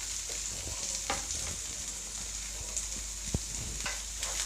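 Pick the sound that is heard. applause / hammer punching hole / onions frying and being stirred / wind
onions frying and being stirred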